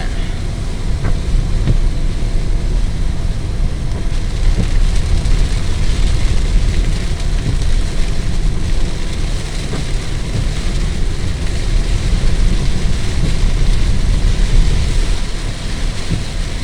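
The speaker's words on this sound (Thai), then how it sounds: "แรงมากครับฝน" Heavy rain roars steadily and loudly throughout, a dense continuous wash of noise with a low rumble underneath.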